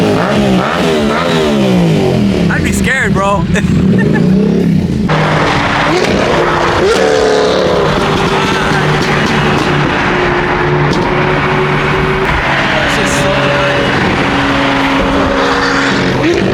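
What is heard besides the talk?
Lamborghini V12 engine revving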